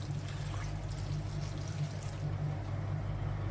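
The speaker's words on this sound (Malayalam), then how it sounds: "ഇത് വേകാൻ ആവശ്യമുള്ള വെള്ളം ചേർത്ത് കൊടുക്കാം." Water pours steadily into a pot of pumpkin erissery cooking on the stove, a soft continuous trickle and splash under a low background hum, with no voices.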